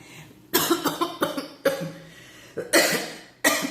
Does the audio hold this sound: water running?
no